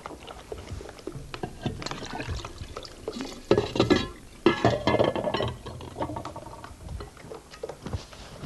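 Cooking oil poured into a batter of flour and eggs for a liver and spinach dish, a liquid glugging and splashing in bursts, loudest midway, in a kitchen with no talk.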